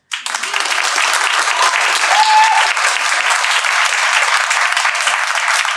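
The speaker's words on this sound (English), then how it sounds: "give it a clap." Loud, steady audience applause at a live psychic show, many hands clapping together from the start and holding at an even level throughout, with no talking over it.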